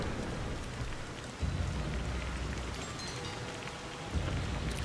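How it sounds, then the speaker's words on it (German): Thunderstorm in the video game Splinter Cell: Pandora Tomorrow, with steady rain hissing throughout and low rolling thunder swelling twice, all fairly quiet with no voices. "weil es ja gewittert und hier und da blitzt es einmal und es erhellt alles"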